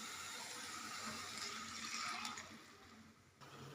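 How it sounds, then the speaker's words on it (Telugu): Water is poured into a pan of lentils that were fried with salt and turmeric for a fenugreek-leaf curry. A quiet, steady rushing pour runs for a few seconds, then thins and fades toward the end, with no voices. "ఇప్పుడు వాటర్ పోసుకుందాం."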